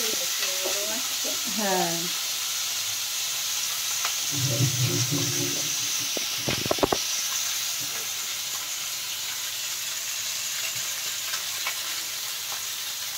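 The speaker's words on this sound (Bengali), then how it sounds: "এবার দিয়ে দেওয়া হচ্ছে একে একে মাছগুলো।" Fish fry in hot oil, a steady close sizzle with occasional stirring and clinks, a voice briefly heard near the start.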